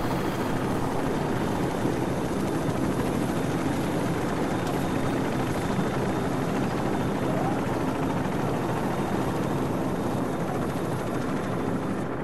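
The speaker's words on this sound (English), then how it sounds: "Be advised, friendly helicopters entering the area." Friendly helicopters in Call of Duty 4: Modern Warfare drone and thrum continuously overhead, a loud, steady rotor-and-engine roar filling the scene without letup.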